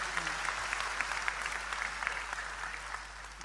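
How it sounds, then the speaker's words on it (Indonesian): An audience at an Islamic study gathering claps for a speaker, a steady, moderately distant wash of many hands applauding over a low background hum, without any talk over it. "Tepuk tangan untuk beliau"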